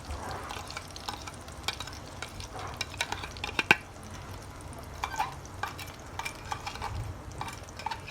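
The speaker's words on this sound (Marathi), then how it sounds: "यानंतर आपण तेलामध्ये मसाला तळून घेणार आहोत" Onion, coconut, coriander seed, ginger-garlic paste and coriander masala frying in oil for a mutton dish, with a steady low sizzle and scattered clicks of stirring against the pan, moderately quiet and close, with no talking.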